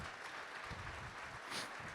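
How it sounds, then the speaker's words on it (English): A luncheon audience at a cultural diversity committee event in Festus, Missouri claps in a brief, steady burst of fairly faint, distant applause. "Let's give him a warm applause."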